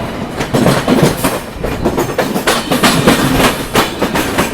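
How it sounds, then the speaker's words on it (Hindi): A train crossing close alongside, hauled by a Howrah shed WP5 locomotive, a loud, dense rush of wheels and rattling carriages with rapid, regular clickety-clack beats throughout. "यहाँ पर किसी ट्रेन के साथ क्रॉसिंग हो रही है, इसको लगा है हावड़ा शेड का WP5"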